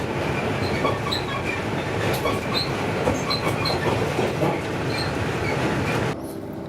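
Indian Pacific passenger train rolling on rails, steady close rumble with rhythmic clickety-clack of wheels over joints, fading to quieter noise near the end.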